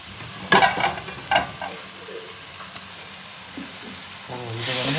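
Mutton biryani with mint and coriander being stirred in a frying pan: soft, steady sizzling with a few louder scraping stirs near the start and a brief voice toward the end.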